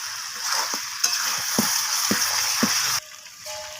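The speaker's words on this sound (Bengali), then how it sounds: "মশলাটা দিয়ে আমি আবারও নাড়াচাড়া করে নিচ্ছি" Chicken coated in freshly ground spice masala is stirred in a pan. A loud, close sizzle runs throughout, broken by several dull knocks of the spoon. The sizzle drops away abruptly near the end.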